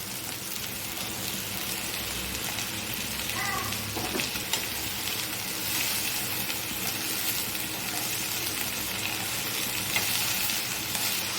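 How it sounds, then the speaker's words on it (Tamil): Cabbage and capsicum sauté in a pan for a Tamil poriyal, giving a steady close sizzle with occasional scraping stirs throughout and no talk. "அதில் முட்டைக்கோஸ் சேர்த்துக்கலாம்."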